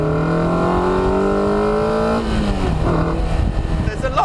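Lotus sports car fitted with a 145 hp K-Series VVC engine, running with a steady, close engine drone that shifts pitch partway through, while someone talks over it.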